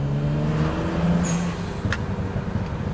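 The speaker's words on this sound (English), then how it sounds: "Let me see if I can get you guys some exhaust burbles." BMW 335i on stock exhaust idling with a low, steady rumble that settles into uneven burbling pops partway through, close to the microphone, with no talking.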